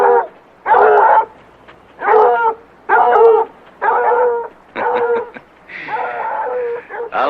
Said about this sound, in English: get those stupid dogs going